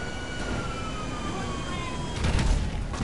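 A police siren wails steadily in GTA 5 amid dense traffic and engine noise, holding a sustained tone that fades slightly, with a louder burst of noise near the end.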